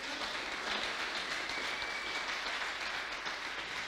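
A church congregation applauding and cheering, a steady, dense wash of clapping that stays even and fairly distant throughout, with no speech over it.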